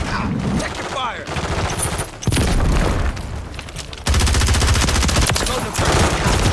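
Rapid automatic gunfire in Call of Duty: Modern Warfare III multiplayer, loud dense bursts of shots layered with impacts, with in-game voices speaking over the firing.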